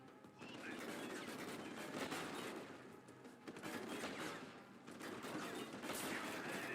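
Rifle gunfire in the video game Deus Ex: Human Revolution, rapid bursts of shots running almost continuously with short gaps, dense and moderately loud.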